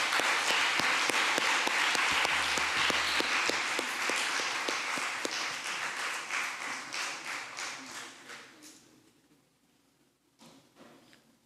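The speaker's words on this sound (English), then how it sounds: "one more round of applause for Bromo and Micah" An audience at a school assembly applauds, a dense close burst of clapping that is loud at first, then thins into scattered claps and fades toward the end.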